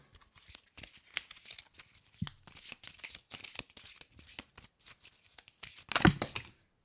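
A deck of oracle cards is shuffled by hand in quick, irregular riffling bursts of papery flicks, close and crisp, with a louder thump and rustle near the end.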